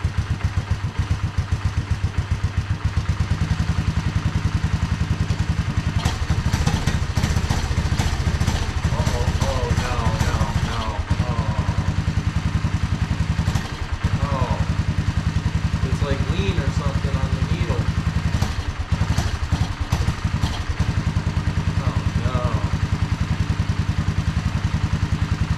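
A Honda ATC185S three-wheeler engine fitted with a Mikuni carburetor idles steadily close by, a continuous low throbbing rumble with occasional clattering, while people talk over it.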